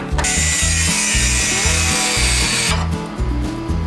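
Power cutter biting partway into the carrier bearing crossmember of a 1948 GMC pickup, a loud close whining grind with a pulsing rhythmic tone that cuts off near the end.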